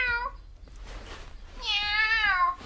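A cat gives two meows close by, a short one and then a longer, drawn-out one, separated by a quiet gap.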